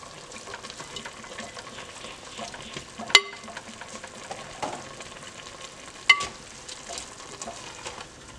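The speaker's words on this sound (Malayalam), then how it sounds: "ഇനി നമുക്ക് ഈ കറിയിലേക്ക് 2 തക്കാളി ചേർത്ത് കൊടുക്കാം" Two tomatoes drop into a simmering mutton curry in a pot, giving a soft steady bubbling and sizzle with two sharp clinks along the way. No talking is heard.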